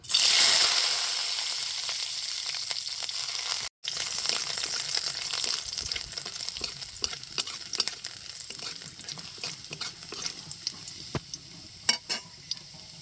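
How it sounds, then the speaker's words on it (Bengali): Garlic sizzles and crackles steadily in hot oil, with occasional scraping stirs and sharp pops, loud and close with no talking, in a village kitchen. "রসুন প্রায় ভাজা হয়ে আছে"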